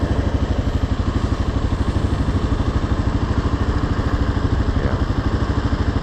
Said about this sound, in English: We are on the KLR 650. Single cylinder. Not an inspiring sound